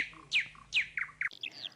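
Migratory bird song with bright, downward-sweeping whistled phrases repeating about every half second, then a burst of shorter chirps, fairly close and clear against a low steady hum.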